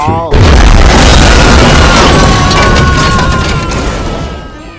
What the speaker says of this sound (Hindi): पापा बम फटा क्या पापा?